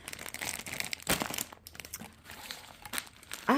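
A plastic Ziploc bag crinkles and rustles indoors in irregular bursts, with sharper crackles now and then and a louder crunch at the end. No one talks over it.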